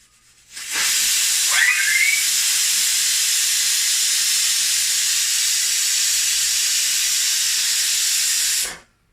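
A pressure cooker with pav bhaji inside lets out a loud, steady steam hiss close by. The hiss starts abruptly, holds for about eight seconds and then cuts off.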